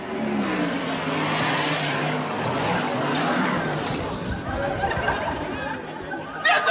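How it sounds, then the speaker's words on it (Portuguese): A rally car passes along the track at the Lisboa–Dakar rally, its engine rising and then falling as it goes by, with roaring noise and crowd chatter in the background. "Olha, lá vem outro carro!"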